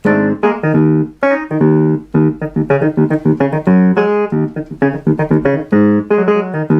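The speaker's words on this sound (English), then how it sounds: "here's clavichord, which is preset 6" A Polymoog 203a synthesizer's clavichord preset plays short staccato chords and notes in a lively rhythm, bright and plucky, close and loud, with no voices.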